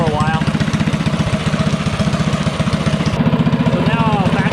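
A small engine fitted with a VM22 Mikuni carburetor idles while warming up, a steady rapid loud putter with an even pulsing rhythm throughout, close to the listener.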